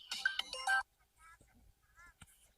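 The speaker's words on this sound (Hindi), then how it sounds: "हमारे घर फोन आई है" A phone ringtone plays loudly in a short burst of bright, warbling electronic tones, then cuts off, followed by quieter brief sounds and faint voices in an Awadhi comedy sketch set at home.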